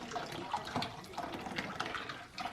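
Flour and cold water mixture being poured into a pot of roast beef gravy, a continuous close liquid pour with splashing and trickling throughout, no talking.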